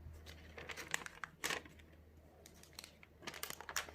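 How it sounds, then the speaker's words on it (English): Paper crinkles and rustles as it is folded around a bar of soap over brown paper, faint close crackles in short irregular bursts over a low steady hum. "I'm folding paper. I'm hearing how the paper sounds"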